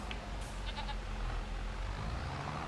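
Goats bleat on a farm in Farming Simulator 25, with a few short, soft calls set over a steady low rumble of ambient engine noise.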